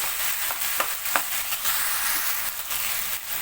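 Dal fries in oil for a dill-leaf (shepu) bhaji with an even, hissy sizzle throughout, marked by a few light scrapes and taps of stirring, close and steady with no voices.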